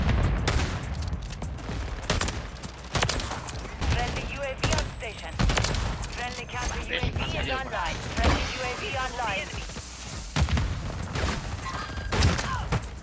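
Lockwood 680 shotgun blasts in a Call of Duty match, with repeated loud booming shots and scattered gunfire from other players, while a player talks over the action.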